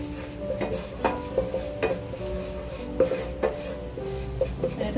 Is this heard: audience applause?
no